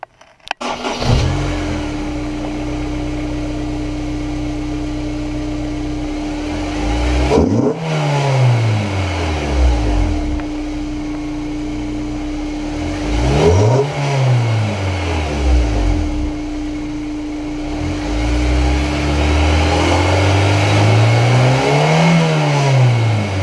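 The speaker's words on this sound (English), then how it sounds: "I'm gonna do a little sound check on the intake side." Honda S2000 fitted with a K&N intake, idling loudly and then revved hard three times, each rev climbing sharply and falling back to a steady idle, close to the microphone with no talking.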